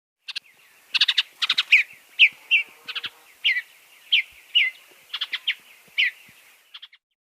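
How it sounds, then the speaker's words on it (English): A bluebird sings a series of short, bright warbled phrases and chirps, clear and fairly close, with brief gaps between bursts and no other sounds around it. "Bluebird."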